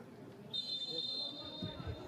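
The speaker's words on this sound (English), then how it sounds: "Whistle goes." A referee's whistle starts a football friendly between SK Sturm Graz and FK Partizan Belgrade with one long, clear, steady blast lasting nearly a second, heard over faint stadium ambience and a commentator talking.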